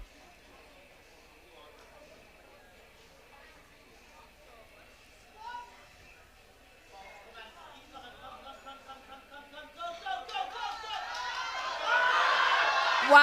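Crowd cheering and applause at a masters powerlifting competition, swelling from scattered voices into loud, sustained cheering as a lifter grinds out a 112.5 kg attempt on the platform.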